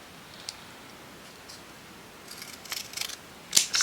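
Quiet room with a few faint clicks, then a handful of crisp scissor snips cutting paper near the end, close by, with no talking.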